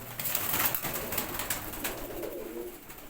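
A breeder's pigeon in Islamabad, Pakistan, coos softly in a short series of gentle, repeated calls over faint background rustle.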